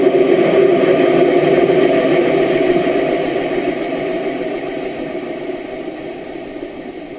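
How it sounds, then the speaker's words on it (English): Go Fast team's rocket engine roaring steadily during launch, a loud continuous broadband rumble that slowly fades in strength over several seconds, with no voices. "the sound of the engine starts to diminish as if maybe A's run out of fuel"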